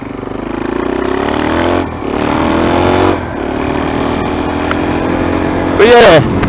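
Suzuki DRZ400 motorcycle revving hard on a slippery road as the rear wheel spins, rising engine pulls with brief gaps between gears, loud and close, ending in a sharp high rev.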